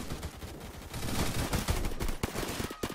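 Rapid automatic gunfire in the first-person shooter Phantom Forces: dense, continuous rattling bursts that stay loud and close throughout, with a brief pause near the end and no talking.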